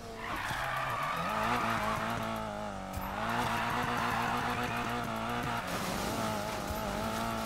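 Subaru BRZ drifting in the Need For Speed Payback racing game, its engine droning steadily while tires squeal and skid continuously through a corner, loud and close, with a short dip in the middle.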